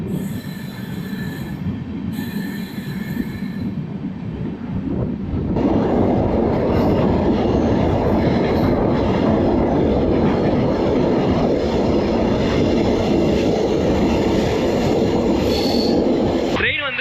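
An express train crosses from Maharashtra into Gujarat, running steadily on the rails with a loud, continuous rumble and wheel noise that grows heavier partway through and carries on without pause.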